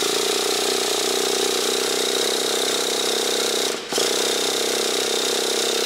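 A Traxxas Slash Nitro 2WD RC car's small nitro engine runs with its air filter removed, giving a loud, continuous high-revving buzz close by. It dips briefly near the end, then picks straight back up.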